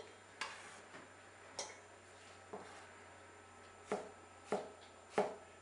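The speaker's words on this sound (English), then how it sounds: "Notice I'm slicing it about 1/4 of an inch." A large knife slicing vegetables for a Greek salad on a cutting board, about eight crisp, close chops spaced under a second apart, faint over a low steady hum.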